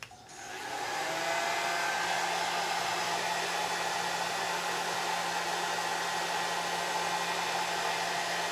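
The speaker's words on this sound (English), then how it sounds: "let me just hit it with a blow dryer again" A handheld blow dryer runs steadily and loudly on hair being set into finger waves, powering up in the first second and then holding a continuous whooshing whir with no voices.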